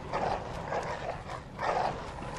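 Several dogs in the Bloodborne video game bark and growl in repeated bursts, moderately loud, over a murky game background.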